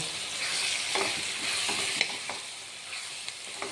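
Garlic methi pickle being stirred in hot oil over a low flame, a steady broad sizzle with soft scraping strokes of the spoon and a few sharp clinks, close and continuous with no talking.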